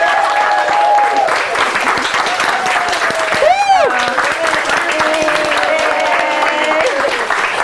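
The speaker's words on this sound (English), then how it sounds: "So please, everyone, give Ari a big round of applause" Audience applause at a talk in Sacramento, a steady wash of clapping held for several seconds, fairly loud and close, with a whistle and some voices mixed in.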